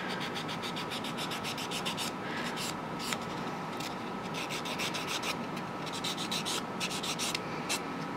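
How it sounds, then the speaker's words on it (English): A nail file sanding a silk wrap nail tip smooth, a steady close, dry scratchy rasp with quick back-and-forth strokes continuing throughout without talking. "So I have to very carefully sand until I have the whole thing smooth."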